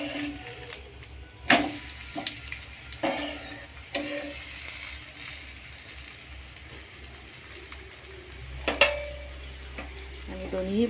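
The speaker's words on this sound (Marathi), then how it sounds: "आता 2 मिनिटांपर्यंत छान खरपूस भाजून घ्यायचं आहे आणि वरून थोडंसं तेल इथे मी घालून घेत आहे" Methi thalipeeth roasting in oil on a pan, a steady close crackling sizzle with a few sharp knocks and scrapes, otherwise alone without voices.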